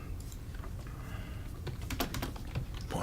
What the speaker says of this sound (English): Watch Jordan type